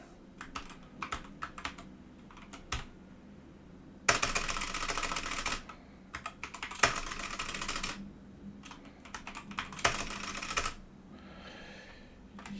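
Bursts of clattery keyboard typing while writing text for a VFD display driven by a Raspberry Pi Pico, with dense fast keystroke runs between sparse scattered clicks, close and fairly loud, no talk.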